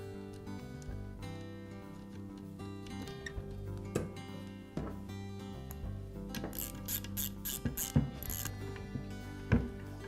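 A nut being tightened onto the armature shaft of a Skil circular saw during worm gear repair, with quick ratcheting clicks and metallic taps in short bursts, close and fairly quiet.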